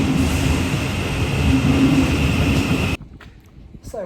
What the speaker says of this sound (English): the Train has just left